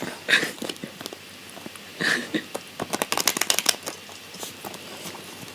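A tarot card deck is shuffled close by in a quiet room, with scattered soft riffles and a dense burst of rapid card flicks in the middle, plus a few brief voice sounds.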